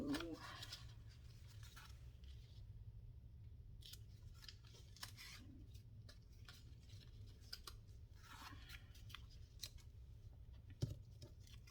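Scissors snipping through collage material in a quiet room, a steady run of small close cuts and rustles spread across the stretch, with no voices.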